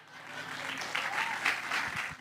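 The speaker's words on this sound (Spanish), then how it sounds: "Esos aplausos son para vos, Ceci." Audience applause during a live philosophical monologue show, a moderate round of clapping from the crowd, fairly even throughout.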